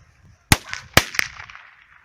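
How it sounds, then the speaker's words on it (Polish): Three sharp, loud pop-bang blasts from small Hestia piccolo firecrackers go off outdoors. The first two are close together and the third follows quickly after, each trailing into a brief crackling decay. "A teraz sprawdzamy dwustrowe pikolaki od Hesti."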